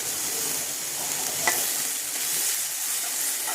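Spice paste (masala) frying in oil for a roasted bottle gourd curry while being stirred, giving a steady close sizzle with one brief scrape of a spoon midway and no voices.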